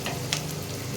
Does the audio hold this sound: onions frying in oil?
yes